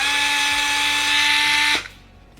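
A Fanttik NEX L1 Pro palm-sized electric screwdriver whirs at a steady high pitch, loud and close, then cuts off abruptly and stops dead, leaving only quiet room tone.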